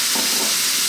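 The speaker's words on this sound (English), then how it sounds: "It's going to be about 5 to 6 minutes of stirring and frying the rice." Cold cooked rice with mushrooms is stir-fried in a hot pan, a loud, continuous close sizzle with scraping from constant stirring.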